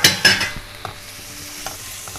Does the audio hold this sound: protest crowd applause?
no